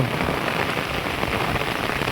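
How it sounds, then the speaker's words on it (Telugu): Heavy rain pours down over farm fields in a dense, loud, unbroken roar close by. "ఇప్పుడే స్టార్ట్ అయింది వర్షం"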